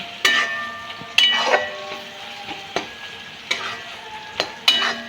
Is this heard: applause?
no